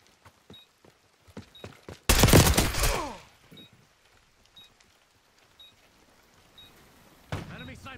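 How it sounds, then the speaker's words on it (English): Enemy sniper fire in Call of Duty Black Ops 6 Search and Destroy: a single loud, booming shot with a long echoing tail, amid sparse footsteps and clicks, and another sharp report near the end. "Enemy sniper shooting."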